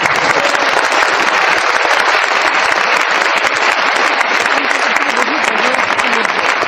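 An audience in a business seminar hall applauds loudly and steadily, dense continuous clapping from many hands with no pauses.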